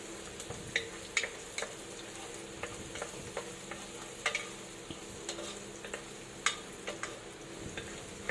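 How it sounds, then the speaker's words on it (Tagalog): Onion and garlic sautéing in a pan for chicken tinola, a soft steady sizzle broken by light scraping and clicking as a utensil stirs them, close and fairly quiet with no voices. "Tapos, gisa-gisahin natin yan. Pinagsabay natin ng sibuyas at bawang para sa ganun mabilis."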